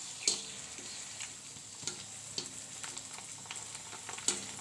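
Golgappa puri chips frying in hot oil in a home kitchen, a soft, steady sizzle with faint crackles and occasional small pops, quiet and close with no talking.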